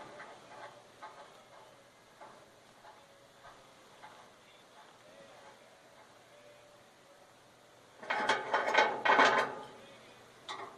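A crown nut being tightened onto a trailer wheel hub, with quiet metallic ratcheting clicks at first, then a louder, quicker run of clicks near the end.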